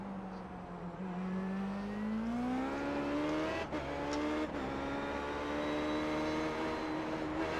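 An Indy race car engine in iRacing screams steadily at high revs, pitch rising through a gear and holding with a couple of quick shift blips, loud and continuous from the cockpit.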